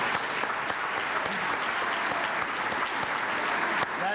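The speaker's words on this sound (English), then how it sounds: "Let's give them all a big round of applause" A big round of applause from the crowd at a Republican Party roast dinner for introduced delegates and a mayor, dense and sustained clapping at full volume with no break.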